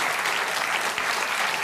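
An audience at a magic show applauds in a brief, steady burst of dense clapping, close and even from start to finish.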